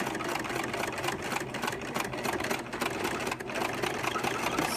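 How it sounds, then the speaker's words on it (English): A sewing machine runs steadily as it stitches through several layers of fabric and interfacing, giving a continuous, fairly quiet mechanical whir with a rapid needle rhythm and no talking. "Okay, and I'm going to sew this."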